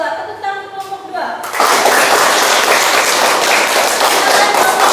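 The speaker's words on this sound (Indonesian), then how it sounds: "Tepuk tangan untuk kelompok 2" A classroom group claps for a presenting team, with a burst of dense applause breaking out after a brief moment of speech and continuing loudly and evenly to the end.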